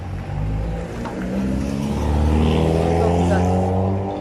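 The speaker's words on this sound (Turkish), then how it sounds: "Tam zamanında arabalar geçiyor." Cars pass along a road near a garden, their engines swelling into a louder rumbling whoosh while a person talks over them.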